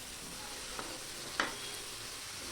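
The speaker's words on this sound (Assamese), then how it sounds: "মছলাখিনি মই ভাল কৰি ভাজি লৈছোঁ" Spices and coconut paste fry for Assamese chana dal (butor dali) in a soft, steady sizzle, quiet and even, broken by two faint clicks of a utensil.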